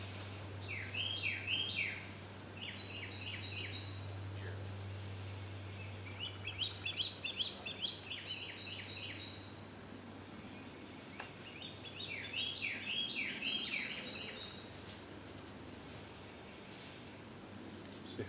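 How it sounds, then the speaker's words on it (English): Several birds chirp and sing outdoors in short, repeated bursts of bright trills, fairly faint and a little distant over a quiet background with a low hum for the first part. "See how all the birds got a lot more active."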